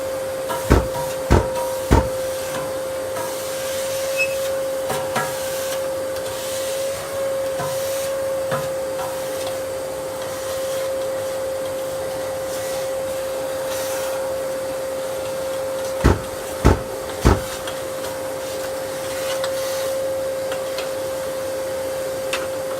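A vacuum cleaner runs steadily the whole time, its hiss and drone unbroken while it cleans the top of a masonry stove's oven and the bricks at the back. A few sharp knocks of the nozzle on brick come through, three early and three late.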